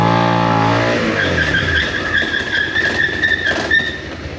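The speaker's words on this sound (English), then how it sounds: "you can also consistently hear that it is skidding alongside the ABS" Suzuki SV650X motorcycle braking hard under ABS, a close engine note falling away as tyre skid chirps and a pulsing squeal run for several seconds, loud and alone.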